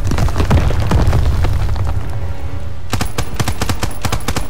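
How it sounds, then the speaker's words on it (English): Artillery bombardment in Call of Duty WW2, a dense run of loud rumbling blasts and rapid gunfire-like bursts that briefly thins before another hard cluster of impacts erupts close by. "Are you sure you want me to do an artillery attack? Keep your head down. Big bomb coming in."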